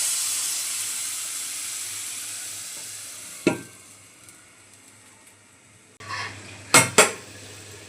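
A pot of vegetables and dried fish, simmering with added water, is covered with a lid: fading sizzle, then a sharp metallic clank, and later a couple of quick clattering knocks near the end.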